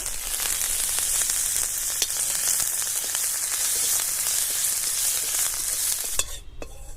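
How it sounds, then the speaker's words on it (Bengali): Curry leaves fry in oil in a kadai with a loud, constant hissing sizzle that stops abruptly just before the end. No voices are present. "এবার ওই তেলের মধ্যে আমি কারি পাতাগুলোকে একটু ভেজে রেখে"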